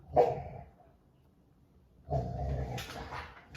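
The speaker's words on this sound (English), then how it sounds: "my dog just got her toy and decided that she wants to play right now in the middle of this message" A playful dog with her toy gives a loud bark or yip close by, then after a pause a longer burst of barking and vocal noise follows; no one talks.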